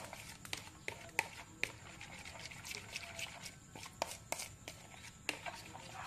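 Eggs being mixed for scrambled egg, a run of quick light taps and clicks of a utensil against a bowl at an irregular rhythm, close and fairly quiet.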